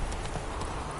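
Geralt's horse Roach gallops in The Witcher 3: Wild Hunt, hooves pounding in a steady, close, fairly loud rhythm over a dense layer of game ambience.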